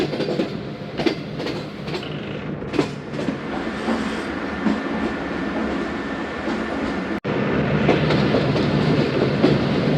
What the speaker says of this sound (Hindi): नौ बजकर 2 मिनट पर दोस्तों ट्रेन पहुंच रही है कोट लखपत।